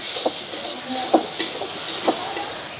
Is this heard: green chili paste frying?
yes